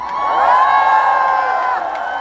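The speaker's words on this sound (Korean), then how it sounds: "박수하고 함성 소리만 있으면 됩니다." A festival concert audience in Goseong bursts into loud cheering and whoops for a singer, the shouted voices swelling quickly and then holding as a bright, sustained roar with scattered clapping.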